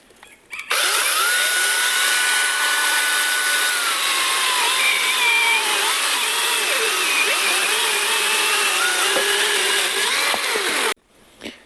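Cordless saw, a Grosser GCS 120HS or ABS L-212, cutting continuously for about ten seconds with a whining, rasping motor tone that shifts in pitch as the blade loads, starting and stopping abruptly, with no talk.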